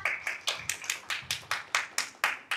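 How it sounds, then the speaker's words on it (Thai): Rhythmic handclaps at a press conference come in about eleven even, sharp beats, close and fairly loud, like a few people clapping in time rather than a large crowd, with no talk over them. "ปรบมือด้วยนะคะ"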